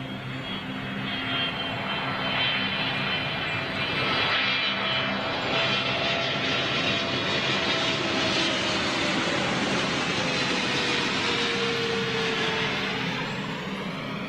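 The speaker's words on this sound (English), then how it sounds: "Is it EasyJet, is it?" An EasyJet passenger jet roars overhead near a home, a loud sustained engine rumble with a slowly falling whine that swells and lingers throughout.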